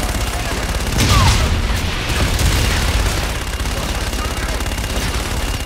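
Rapid bursts of gunfire and booming explosions in the video game Call of Duty Infinite Warfare, loud and continuous, with heavy low thuds swelling in the first seconds, then a steady crackle of shots.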